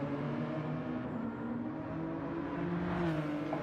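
A race car engine in a sim racing game at Dragon Trail Seaside circuit, held at a steady droning whine with throttle on while braking, sustained and fairly quiet throughout.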